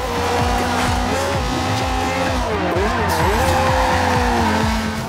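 A car drifting in Forza Horizon 2, its loud engine droning while the tires squeal and the pitch dips and swoops through the slide, close and continuous without any speech.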